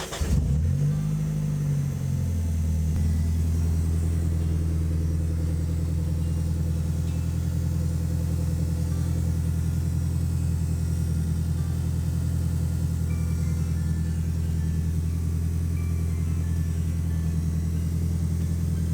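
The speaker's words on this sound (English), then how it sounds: "let's start the car so that everything's under pressure" A Nissan S13 engine cranks and starts with a brief rev, then settles into a steady, even idle heard close up for the rest of the time, with no talking.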